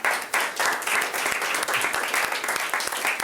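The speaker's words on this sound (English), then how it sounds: "I'd like you to give him a round of applause first." A Year 11 class applauds a visiting teacher in a school classroom: dense, lively clapping from a group that runs continuously at close range.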